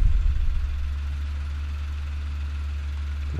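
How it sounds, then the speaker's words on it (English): A lifeboat engine running at idle gives a steady, deep, close mechanical drone with an even low throb and slight knocking texture, continuous and unaccompanied by voices. "So here the engine is working"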